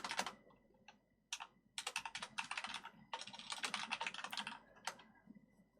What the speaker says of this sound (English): You're typing away.